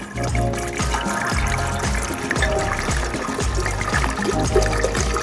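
Filtered tap water pours steadily into a glass jar being filled about a quarter full for brewing kombucha, a continuous close splashing trickle.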